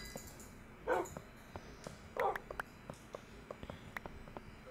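A dog in the Minecraft video game gives two short barks close by, amid faint clicks and light game sounds.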